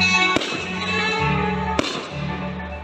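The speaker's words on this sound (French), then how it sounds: "Ce dimanche 14 août s'est tenu le traditionnel feu d'artifice de Frévent." Traditional fireworks display in Frévent held on a street beside a swimming pool, with two sharp, loud bursts standing out over a steady, busy rumble.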